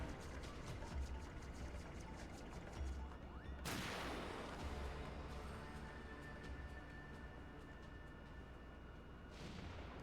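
Gunfire in a Final Fantasy XIV battle: one sharp, loud blast rings out and decays over a layered backdrop of game music and effects, with lighter rapid hits before it.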